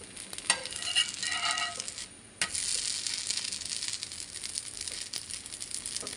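Ragi (finger millet) dosa frying on a pan, a steady close sizzle with brief clinks and scrapes of flipping early on, then a continuous hiss alone without talk.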